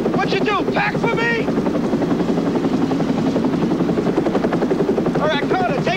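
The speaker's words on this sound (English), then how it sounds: "Get onto that chopper!" A military helicopter's rotor drones steadily at close range throughout, its loud continuous thrum underlying urgent shouting voices.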